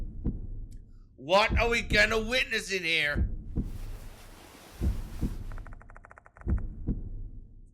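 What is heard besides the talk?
heartbeat in video game Spirit Hunter: Death Mark 2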